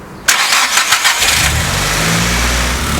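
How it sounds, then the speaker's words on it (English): A car engine cranks briefly and catches on a Noco Genius Boost jump pack, then settles into a steady, close idle with no one speaking. "Now of course this should jumpstart the car."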